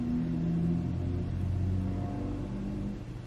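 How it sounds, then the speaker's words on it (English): Heavy truck rumbling loudly past outdoors, a steady low engine drone that holds across the moment without speech. "Geez, truck, why are you so loud?"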